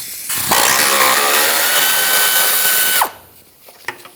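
A power tool whirs loudly for about two and a half seconds, backing out a 10mm parking brake cable bolt near the trailing arm of a 1997-2001 Lexus ES300, then stops, followed by faint metallic clinks.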